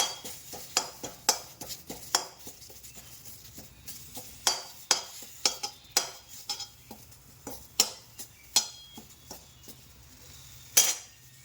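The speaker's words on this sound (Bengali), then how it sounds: "প্রথমে পাতাগুলো খুঁটে বেছে নিয়েছি, তারপরে ধুয়ে ছাড়িয়ে নিয়ে শুকনো খোলায় ভেজে নিচ্ছি" A utensil scrapes and clinks against a pan as neem leaves dry-roast over low heat, giving irregular sharp knocks and scrapes at close range over a faint background hiss.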